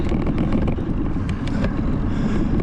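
Steady, loud wind buffeting the microphone on a coast-to-coast bike ride, a dense low rumble with gusty flutter throughout and no clear speech.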